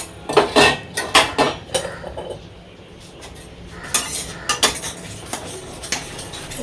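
A metal spoon clatters and scrapes loudly against a pan in bursts while tempering dry red chilies, nigella seeds and crushed garlic, with a quieter stretch of soft background hiss in between and no talking.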